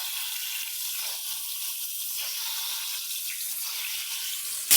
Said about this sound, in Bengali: এইভাবে কড়াইটা ধরে একটু ঘুরিয়ে ঘুরিয়ে ডিমগুলোকে ভেজে নেব